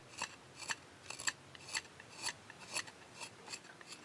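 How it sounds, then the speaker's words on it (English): A slanted Soku Katana blade carving fine details into a small netsuke, giving a series of crisp, close scraping strokes in an irregular rhythm, each short and distinct against a quiet background with no talking. "Now, she proceeds to carve the finer details, using a slanted blade called Soku Katana instant sword."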